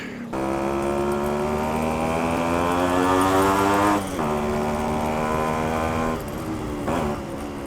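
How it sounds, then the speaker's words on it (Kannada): A Yamaha RX100 two-stroke motorcycle engine drones loudly and continuously at high revs, pitch rising and dipping with throttle, with brief drops in revs around the middle and near the end. "ಈ ಗಾಡಿ ಸೌಂಡ್ಗೆ ಕಿವಿಗಳು ನೆಟ್ಗಾಗ್ಬಿಡುತ್ತೆ ಜನರದು"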